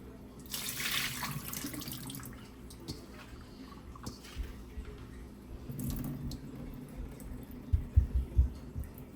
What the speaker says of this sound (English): So now you get the next rinse, so you can rinse out the vinegar, the lemon juice, the salt, rinse it out properly.